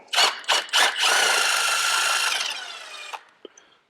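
A power tool backs a screw out of a Can-Am Outlander/Renegade clutch during a belt change, giving three short whirring bursts and then a longer steady whine that winds down, close and loud with no talk.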